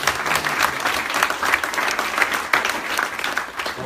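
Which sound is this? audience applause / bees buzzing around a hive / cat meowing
audience applause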